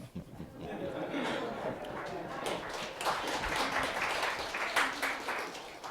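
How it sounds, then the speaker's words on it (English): Audience applause at an education summit, a steady wash of clapping from a crowd lasting the whole stretch, swelling slightly midway, with faint chuckles mixed in. "Oh, that got a round of applause."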